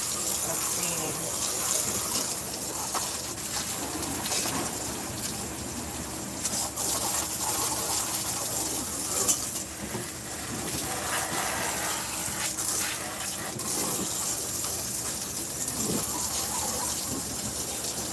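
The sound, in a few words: water running from a tap or hose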